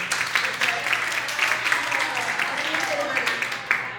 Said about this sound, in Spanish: Un aplauso al equipo.